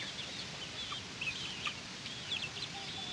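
Turkey chicks on a farm give faint, high chirps and peeps scattered over a steady background hiss, with no voices.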